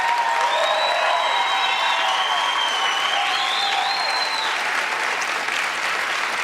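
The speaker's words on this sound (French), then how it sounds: "Encore une fois, on applaudit Christelle." A studio audience of a Quebec reality TV show applauds steadily with some cheering, while a whistle-like tone glides over the clapping for a few seconds.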